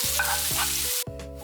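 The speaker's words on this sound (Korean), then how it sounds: "소금이랑 후추간 조금씩 하고 고기 양이 적어서 간장 반 수저만 넣어 볶아줍니다" Meat stir-fries with salt, pepper and soy sauce in a pan, a loud continuous sizzle with a short break, over a steady low electrical hum, close up.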